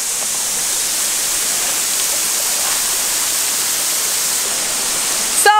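A steady, loud hiss of falling water from a waterfall in Kenya fills the scene without a break, close and unchanging, with a faint brief knock near the end.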